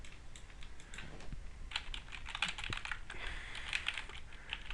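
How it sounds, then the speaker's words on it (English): Fingers tap out a password on a computer keyboard in quick, uneven bursts of light clicks, close and quiet against a faint room hum. "Type in the password"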